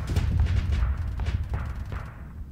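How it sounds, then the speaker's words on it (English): A big super weapon cannon fires in the space video game Starsector, a loud deep boom that rumbles and fades over a couple of seconds. "Yeah, that was your big giant super weapon."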